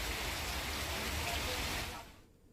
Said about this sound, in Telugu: హైదరాబాద్ లో పలు ప్రాంతాల్లో భారీ వర్షం కురిసింది